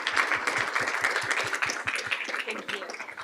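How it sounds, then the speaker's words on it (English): A small group at a board of education meeting claps in rhythmic, steady beats, with voices chattering over it. "How about another round of applause?"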